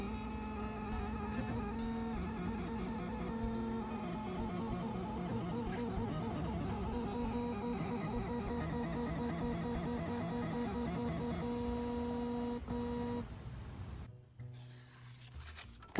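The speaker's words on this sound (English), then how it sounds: "The paper feeds continuously from the roll inside the printer." A JADENS PeriPage A4 portable thermal printer feeds paper from its roll with steady mechanical whirring and a soft rasping for about thirteen seconds, then cuts off, leaving quieter room noise.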